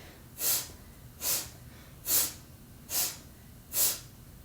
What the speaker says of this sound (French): Je veux vraiment entendre le bruit de l'expire.